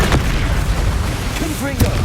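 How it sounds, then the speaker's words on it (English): An Incendio fire spell is cast in Hogwarts Legacy, producing dense booming bursts and rushing noise over a loud game soundscape, with brief character vocal sounds mixed in. "Incendio."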